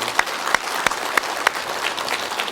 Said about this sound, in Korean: 여러분 박수로 좀 다시 한번 환영해 주십시오.